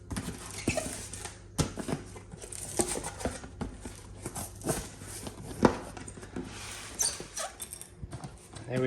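Packaging for a Pulsar GTX 3584r turbo is opened up close, with scattered rustles, crinkles and sharp handling knocks in an irregular rhythm, while a dog whimpers faintly at times.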